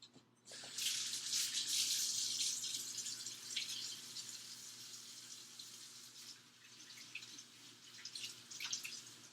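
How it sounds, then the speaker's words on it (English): Hands being washed under a running kitchen tap after handling eggs, a steady close gush of water splashing into a sink, slightly quieter toward the end. "so I'm going to wash my hands really quick."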